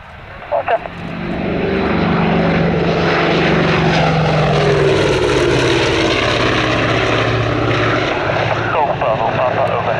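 A Douglas A-26C Invader propeller aircraft makes a loud flyby at Duxford airfield, its engine drone swelling quickly and holding strong before easing slightly, with brief faint talk at the start.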